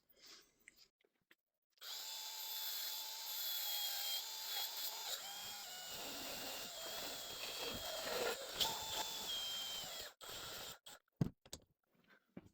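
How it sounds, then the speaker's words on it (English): A power sander whirs steadily against the edge of a bronze washer for several seconds, its pitch shifting under load, then cuts off, followed by a few sharp taps and clicks. "I will actually sand down to that edge so that it's not cutting right into it"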